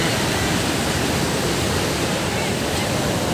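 Water pouring and rushing at Salandi Dam, a dense, steady broadband roar filling the whole stretch without pause, loud and close, with no voices standing out.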